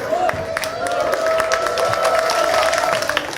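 A church congregation at a sermon breaks into applause, a steady wash of many hands clapping fairly loud for a few seconds, with a sustained tone running beneath it.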